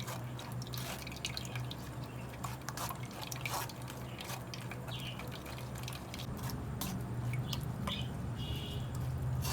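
Homemade falsa sharbat drips and trickles through a strainer, its seeds caught in the mesh, giving soft irregular droplet sounds over a steady low background hum in a kitchen.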